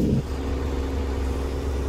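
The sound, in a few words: vehicle engine spooling up before a gear change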